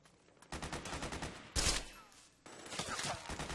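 Gunfire in the Metal Gear Solid 4 video game: loud bursts of shots with a sharp, heavy blast midway, set against a busy game soundscape with no talk.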